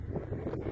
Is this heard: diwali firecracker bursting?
no